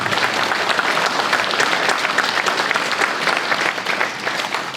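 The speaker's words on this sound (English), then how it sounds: "Let's give them all a round of applause." Crowd at an outdoor 9/11 memorial and mural rededication ceremony giving sustained, even applause, a steady dense clatter of many hands.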